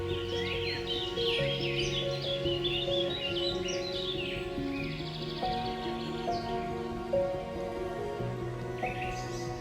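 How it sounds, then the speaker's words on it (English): Migratory birds calling in Nepal wetlands, a faint scatter of chirps and tweets over a steady low background hum and tonal drone, with no talking. "During winter, migratory birds arrive from as far as Siberia and Central Asia, filling the sky with motion and sound."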